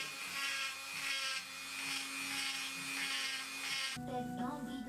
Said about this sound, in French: J'affine les détails au Dremel.